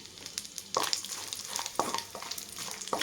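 Cashews and whole biryani spices fry in hot oil in a pan, a close, steady sizzle broken by a few sharp stirring scrapes.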